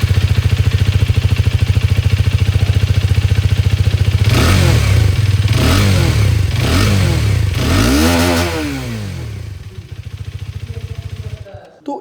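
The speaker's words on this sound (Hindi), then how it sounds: "अब जो नई वाली बाइक है इसी की जो एग्जॉस्ट साउंड है वो मैं आप लोग को एक बार यहाँ पर सुना दूँ।" A Hero Karizma XMR 210 Combat Edition motorcycle idles with a steady exhaust thrum, then revs sharply several times in quick bursts before dropping back and cutting off, close up.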